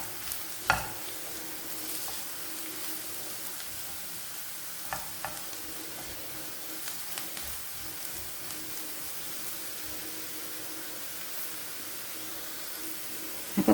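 Onions frying in a pan, browning in hot oil, give a steady close sizzle with occasional sharper crackles and a few stirring knocks, no voices over it.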